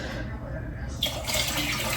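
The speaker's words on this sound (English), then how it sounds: "So here's the second cup of water." A cup of water poured into a pot for Italian pasta e ceci, a short splashing pour that picks up brightly halfway through, with someone speaking over it.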